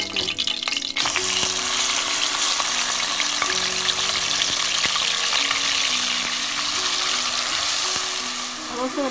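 Onion and ginger paste sizzles and fries steadily with spices in a pan for a shrimp kofta curry, a continuous loud crackle with occasional stirring scrapes, starting after a brief quieter moment.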